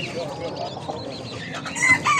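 Chickens and roosters at the busy Edirnekapı chicken market cluck and crow among other birds amid crowd hubbub, with a louder crow rising near the end.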